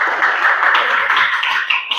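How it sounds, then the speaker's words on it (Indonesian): Applause from a classroom of students fills the room, a dense, steady patter of clapping that runs the whole two seconds without a break. "Oke, kasih tepuk tangan."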